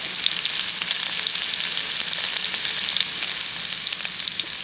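Eggplant pieces for a sesame curry sizzle in a pan, a loud, steady, crackling fry that carries on without pause and with no voices over it.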